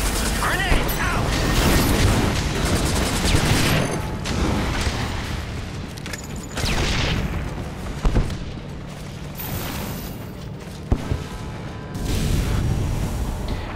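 Chaotic shooter combat in the sci-fi video game Section 8: Prejudice, with a loud grenade blast and sustained gunfire layered over dense rumbling effects, plus a few sharp bursts near the end.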